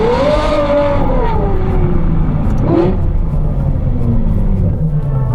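A Ferrari 812 N-Largo fitted with a Novitec exhaust revs loudly and close, its engine note rising and falling in continuous sweeps with a deep rumbling undertone and no talking.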